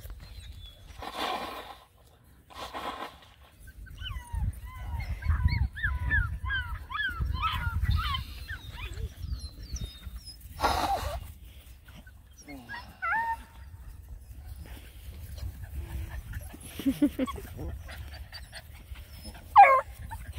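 Black and tan hound puppies around seven and a half weeks old whimper, yip and pant close by outdoors near a pond, with intermittent high whines over soft breathing and some background voices.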